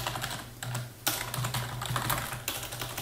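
Rapid typing on a computer keyboard while building an Excel macro, a steady run of close, crisp key clicks with a few louder keystrokes and no talking.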